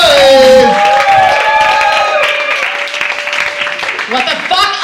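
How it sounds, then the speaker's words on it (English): A comedy club audience in New York claps and cheers, a loud, sustained burst of applause with whoops and voices that gradually thins out. "Make some noise."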